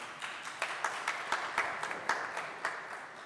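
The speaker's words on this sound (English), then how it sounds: "Okay, you're gonna clap for him" Scattered, irregular claps from a small audience at a Boy Scout troop's Eagle Scout Court of Honor, sounding fairly faint and thin, a handful of hands rather than a full crowd.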